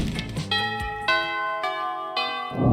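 Chiming bell tones from the video game Monster Prom, three or four clear ringing strikes that each sustain and decay, loud and alone.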